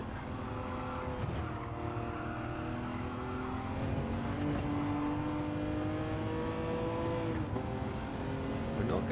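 Race car engine in a racing video game time trial holds a steady high tone that rises and falls as the throttle lifts and reapplies, with tire noise underneath, loud and continuous throughout.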